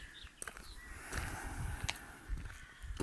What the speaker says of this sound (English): the first thing which hits me is a load of crowing